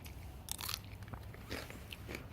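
Someone bites into a raw rattlesnake bean from a garden in late October, a couple of faint crisp crunches followed by quiet chewing, heard close and alone.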